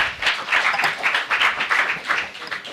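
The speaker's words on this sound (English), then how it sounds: "I've let y'all have 2 claps now." Audience members at a city commission meeting clap together in a dense, steady burst of applause lasting the whole moment, fairly close and with no voices over it.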